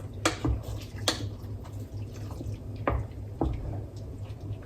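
Water and vegetable stock go into a salmon, sweet potato and broccoli chowder, giving soft drips, splashes and squishy liquid sounds over a steady low hum, close up and moderately quiet.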